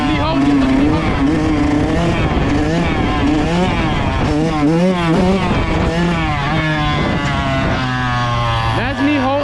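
Kawasaki KX112 dirt bike engine held on the throttle during a wheelie: a loud, continuous two-stroke buzz with rising and falling revs, wind roar throughout and a voice talking over it.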